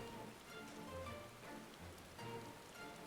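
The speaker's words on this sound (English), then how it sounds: "You're just gonna make us stand here in the rain?" Steady rain falling in the Final Fantasy XIV: Heavensward game world, a continuous even patter on surfaces at moderate level, with no voices.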